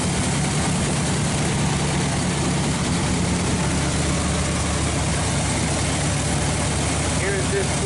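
A 1969 Oldsmobile Cutlass 442 with an oil leak idles smoothly, a steady, loud, low engine rumble running continuously close by, with no talk over it.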